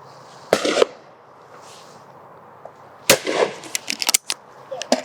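Shotgun blasts at clay targets on an outdoor shooting ground: a single sharp report, a quiet pause, then a cluster of loud cracks and quick follow-up bangs, with no talking.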